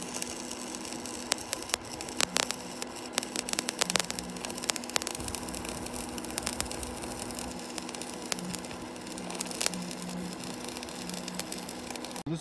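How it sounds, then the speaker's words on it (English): A 110-volt AC welder converted to DC runs a 3/32 rod in a short bead, giving a steady electrical hum and crackling static buzz with irregular sharp pops throughout, close and continuous with no talking. "All right, I'll plug it in and do a little bit of welding."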